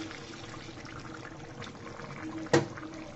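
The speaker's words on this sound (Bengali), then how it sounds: "দিয়ে দিলাম পরিমাণ মতো পানি।" Hot water is poured into a pot of chicken curry with dried bean seeds, a soft, low trickling wash topped by a brief, louder splash near the end.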